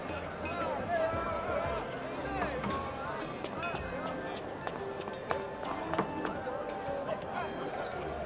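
Horse hooves clip-clop and patter amid a jostling crowd in the Love and Deepspace video game, busy and continuous beneath constant overlapping talk and murmuring.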